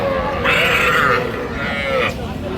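A bull calf at a busy cattle market gives a drawn-out moo, a second shorter call following, both fairly close over steady crowd and market noise.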